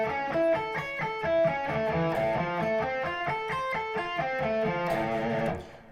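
Electric guitar with some distortion runs an alternate-picked arpeggio exercise that combines subdivisions. Rapid, even notes form a continuous pattern, heard up close and alone before stopping near the end.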